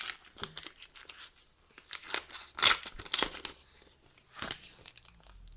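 A trading card booster pack is torn open by hand, giving several short, close bursts of crinkly foil tearing and crumpling, fairly quiet with gaps between.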